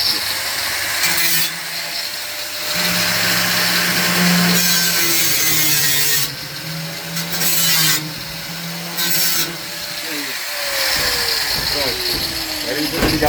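A saw cutting through the sheet-metal roof of a Volkswagen Kombi camper van, a continuous grinding rasp broken into several strokes with short pauses, close and loud, with voices talking at times.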